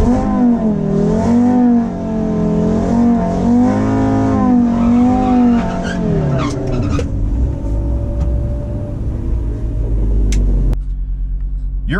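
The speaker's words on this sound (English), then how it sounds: "I'm actually gonna cut to that footage of me at the drag strip doing the burnout." An Audi RS3 does a front-wheel-drive burnout at a drag strip, the engine holding loud wavering revs with rumbling tire spin before easing off and idling, close and alone.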